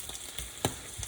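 Small tartines frying in a pan give a steady close sizzle, with a couple of soft scrapes or taps over a brief stretch and no talking.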